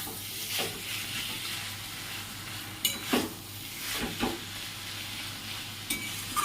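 Small fish being stirred with ground cumin in a frying pan, a steady hissing sizzle broken by a few sharp spatula scrapes and clatters against the pan, close and without speech.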